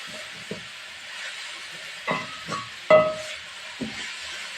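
A spoon stirs a wheat flour mixture with garam masala, giving a few soft scraping strokes spaced irregularly over a faint steady hiss, close and fairly quiet.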